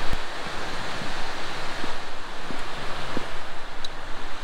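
A waterfall on a New York camping trail pours with a loud, continuous broadband roar, with gusts of wind buffeting the microphone.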